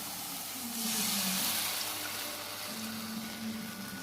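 Milk pours into a simmering egg malai curry in a pan, a soft steady liquid splash and gurgle, faint and close with a low background hum.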